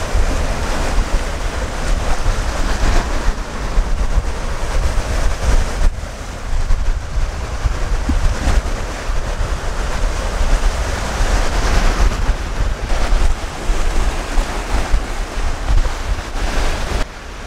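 Waves from Lake Michigan wash steadily against the shoreline at Kohler-Andrae State Park, Wisconsin, right beside a parking area, a constant loud surf rush mixed with gusty wind buffeting the microphone throughout.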